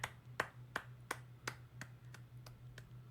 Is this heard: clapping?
yes